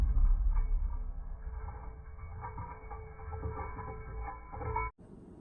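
A garbage disposal runs under a sink with its grinding teeth spinning, a steady mechanical whir with faint rattling that holds for about five seconds before cutting off abruptly.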